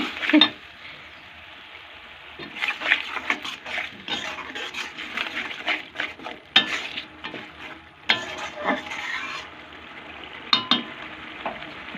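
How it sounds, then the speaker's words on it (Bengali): Khichuri spices are stirred in a pot with a spoon, the utensil scraping and clinking against the metal in repeated strokes over a steady soft sizzle, close and fairly quiet with no voices. "আমি মশলাটা দিয়ে এর মশলাটা একটু নেড়ে নেবো"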